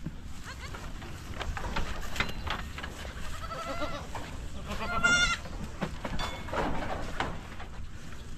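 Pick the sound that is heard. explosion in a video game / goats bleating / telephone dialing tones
goats bleating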